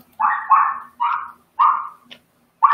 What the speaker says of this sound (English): Sorry, my dog's just really acting up right now.